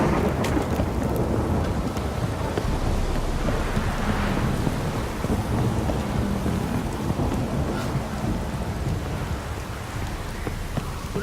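Heavy rain pours steadily in The Witcher 3, a dense rushing hiss with low rumbling thunder rolling underneath, loud and unbroken with no speech.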